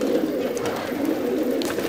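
Colored Girdan pigeons coo in a loft, a soft continuous layered murmur of several birds at close range with no talk.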